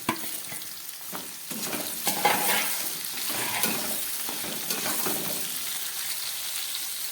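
Chopped onion sizzling in a hot pan while chicken curry is being cooked, a steady broadband fry with occasional stirring scrapes, close and fairly loud with no talk.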